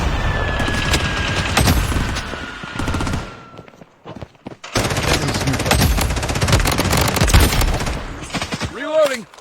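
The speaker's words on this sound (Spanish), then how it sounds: "Torreta defensiva en funcionamiento." In a shooter video game, rapid automatic gunfire from a defensive turret rattles in long loud bursts, breaks off briefly, then resumes with scattered impacts, a short whooshing sweep at the end and no clear talk.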